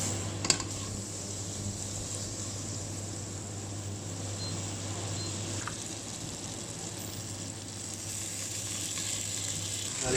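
Butter sizzles in a frying pan with chicken wings, a steady soft hiss with a low constant hum beneath, and a faint clink near the start.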